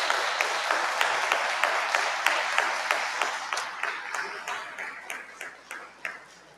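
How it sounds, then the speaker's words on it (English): An audience at a candidates forum applauds, steady clapping with a few sharp distinct claps standing out, gradually thinning and fading over several seconds. "So a round of applause"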